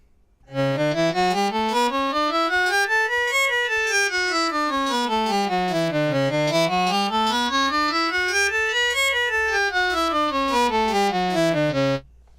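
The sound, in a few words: diminished chord on synthesizer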